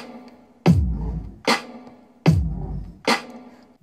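A hip-hop beat's snare drum layer over a low kick pattern, four sharp cracking hits in a steady alternating rhythm, loud and close with no voices.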